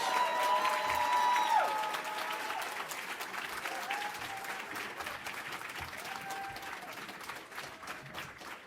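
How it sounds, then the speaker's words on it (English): A conference audience applauds as a student panel is brought on stage, steady clapping that starts strong and slowly thins, with a few faint voices underneath. "begin to clap your hands as we bring up the stars of the show, our student panel"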